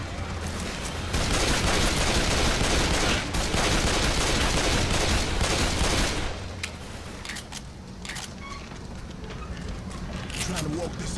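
Shotgun blasts in a video game, loud dense gunfire for several seconds that drops to quieter scattered shots and game noise, with a voice talking over it.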